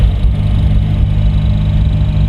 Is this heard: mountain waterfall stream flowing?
no